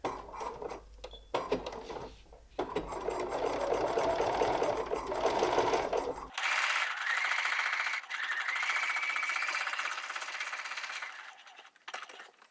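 A sewing machine stitches a seam on a 1920s-style cloche hat, running in fast rhythmic bursts with a brief metallic clink, then carrying on as a steady, higher whirring run before slowing at the end.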